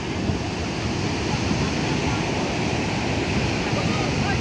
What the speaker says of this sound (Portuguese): essa é a praia de Morro Branco. Praia das mais belas do estado do Ceará